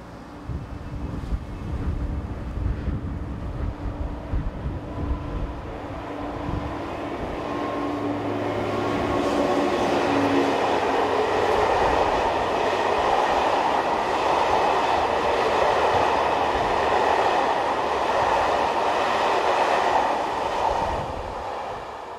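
An SNCF BB15000 electric locomotive departs Dormans with a passenger train, starting with low rumbling and wheel clatter that builds into a loud, steady rolling roar as carriages pass close by.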